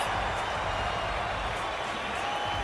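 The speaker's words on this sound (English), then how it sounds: "Crowd cheering on their goaltender and their team." A hockey arena crowd cheering for the home goaltender and team, a steady, dense roar of voices and applause that holds at even loudness throughout.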